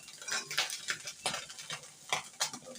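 Small kakila fish fry in a pan while a utensil stirs and scrapes in a loose, repeated rhythm over a faint sizzle, close and moderately quiet.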